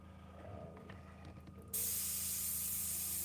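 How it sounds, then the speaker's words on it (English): An airbrush fitted with a matte valve and running at lowered air pressure sprays paint in a test pass, a sudden steady close hiss that starts partway through after faint handling noises, with no talk. "I'm just going to spray off, kind of test my pattern."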